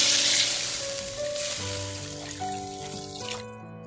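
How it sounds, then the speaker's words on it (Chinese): Water is poured into a cooking pot holding a fish head fried with chili bean paste. It makes a loud splashing gush that quickly settles into a quieter bubbling simmer with a few tonal clinks. "然后放适量的清水"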